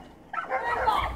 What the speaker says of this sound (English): I think he's dealing with his dogs.